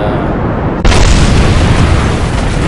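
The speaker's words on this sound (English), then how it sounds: "decouple this thing from the launcher and fire the rocket" A loud rocket launch from a missile launcher truck in Kerbal Space Program erupts suddenly into a sustained roaring blast that fills the clip.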